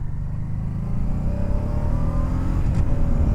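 A Honda Deauville motorcycle accelerates through the gears on a Peak District road. The engine note stays steady and close, with rising tones that shift as the gears change and no talking.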